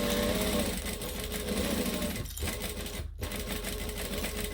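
A computerized domestic sewing machine runs steadily, stitching a standard joining seam with a continuous fast whirring hum and two brief pauses.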